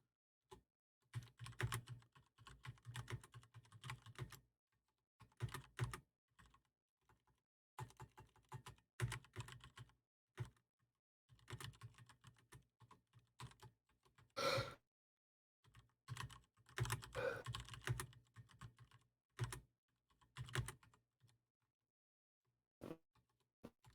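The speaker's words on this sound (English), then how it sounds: "I'm typing up the stat block real quick." Rapid bursts of typing on a computer keyboard, close and fairly quiet, coming in irregular runs separated by short pauses, with no talking.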